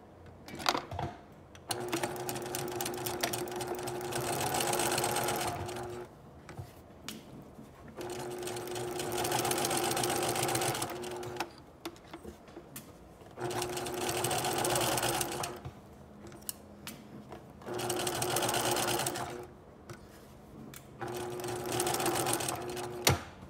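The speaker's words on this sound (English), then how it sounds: "both of our shoulder seams are going to be sewn at half inch seam allowance," A sewing machine stitches the shoulder seams of a princess line bodice in several bursts of rapid mechanical clatter, each lasting a few seconds and separated by brief pauses.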